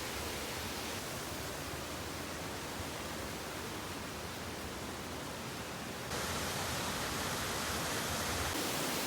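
Steady, loud roar of Yellow Creek Falls close by, broadband and constant with a slight rise in intensity near the end.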